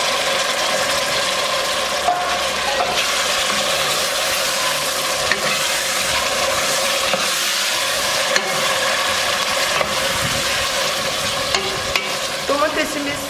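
Tomatoes fry in a pan with red pepper powder and paprika for a Muğla-style eggplant dish; a dense, continuous sizzle fills the whole stretch, broken by occasional light scrapes and clicks of a spoon, with no talking.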